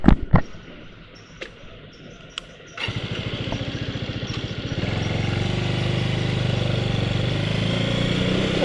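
A motorcycle on a ride toward Edakkal Caves, with a few sharp clicks and knocks first. The engine then roars in at about three seconds and holds a loud, steady, close drone to the end, with no talk.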